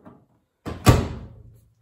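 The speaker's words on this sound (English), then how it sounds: "keep it on there while you close the door" A Miele T1 tumble dryer door swings shut with a single close, solid thump, followed by a brief rattling decay, with nothing else around it.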